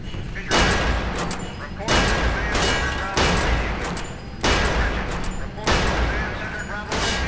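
Gunfire at a shooting range in the first-person shooter Area 51: five loud bursts of rapid shots, each lasting about a second and separated by brief pauses, close and punchy with a rumbling low end.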